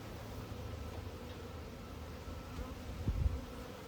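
Soft, steady buzzing of many honey bees at a hive, faint and continuous, with a brief rustle near the end.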